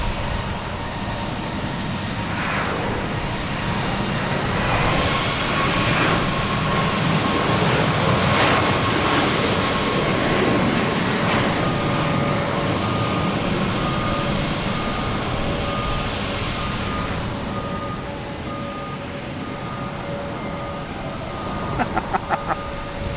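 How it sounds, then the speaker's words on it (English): An American Airlines jet airliner takes off from Boston Logan Airport, a loud sustained roar of engine thrust swelling and holding steady before easing off, with no speech over it. "we have American Airlines taking off, heading to Dallas-Fort Worth"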